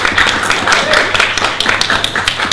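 A crowd at a Bright Club comedy night in Southampton claps and applauds in a dense, continuous patter of many hands, loud and close, with no other sound over it.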